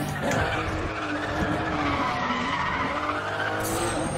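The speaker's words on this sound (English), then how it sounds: "That drift was amazing." Race car drifting in the Need for Speed The Run video game, with a sustained, loud tire skid and squeal over a steady engine roar for the whole stretch, close and continuous with no talk.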